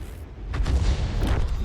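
A tank destroyer's cannon fires in World of Tanks, a deep booming shot that rolls out and fades, with a second rumbling report following.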